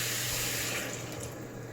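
Water runs steadily into a cooking pot holding balunan with garlic, tomato and chili, a close, continuous hissing pour that gradually softens.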